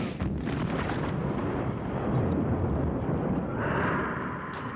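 A mutant alligator blows up in the 1991 creature film Alligator 2: The Mutation, a sustained, roaring blast rumbling for several seconds and then fading into a higher whooshing tail, with no talk.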